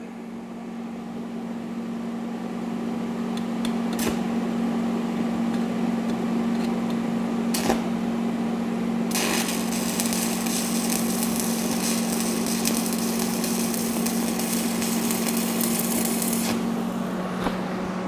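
Stick welding with a 1/8 inch 7018 electrode on electrode positive at 120 amps, done on a John Deere tractor fork, makes a steady, close crackling buzz that holds for the whole stretch with no talking.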